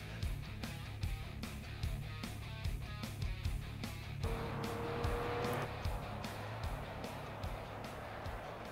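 RUF RT12R sports car, 730 horsepower, in Project CARS racing: a loud, sustained engine drone with rapid gear shifts marked by regular pulsing bursts and a brief rising whine midway.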